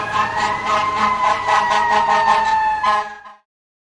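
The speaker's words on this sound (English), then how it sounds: "Fire engine." A fire engine siren blares loudly and close, its wailing tone pulsing rapidly for about three seconds before it stops abruptly, with no voices.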